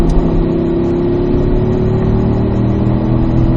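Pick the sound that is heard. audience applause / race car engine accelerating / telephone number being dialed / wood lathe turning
race car engine accelerating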